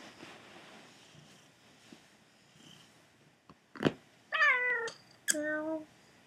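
A house cat gives two close, clear meows in quick succession near the end, after a quiet stretch with faint rustling.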